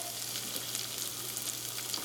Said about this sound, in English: It's sizzling, okay? And I'm going to throw in my onions.